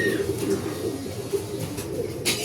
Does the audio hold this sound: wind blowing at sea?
no